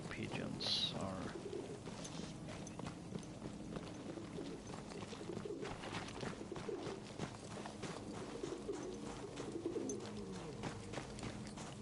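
Pigeons coo softly in Battlefield 1 amid a busy, rustling game soundscape, their low calls recurring throughout under faint background noise.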